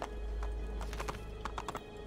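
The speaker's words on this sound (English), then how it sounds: "there's a horse there so let's go" Horse hooves clip-clopping in Assassin's Creed 2, a quick run of close hoof strikes in uneven rhythm over a low steady background.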